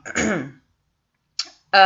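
A single harsh throat clearing, close and loud, followed by a short pause and a couple of brief throaty bursts.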